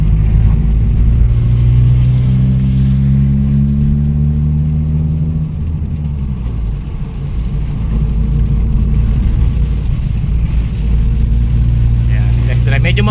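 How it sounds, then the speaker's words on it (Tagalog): Engine of a Toyota Corolla EE100 on a rainy-day test drive in Pangasinan, a loud steady cabin drone with low rumble and gently shifting engine pitch, while people talk over it. "At nagte-test drive kami."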